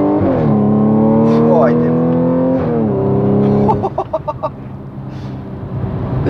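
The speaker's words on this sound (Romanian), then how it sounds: "Dacă dai pe manual, se va tura foarte frumos." A 480 hp Audi S5 with swapped downpipes and stock exhaust revs in manual mode, the engine note climbing and falling loudly up close, followed by crackling pops on lift-off, with a brief spoken word.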